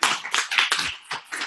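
A small group claps for Malcolm at an on-camera workshop: a short run of irregular, close hand claps, loud and uneven, with no voices.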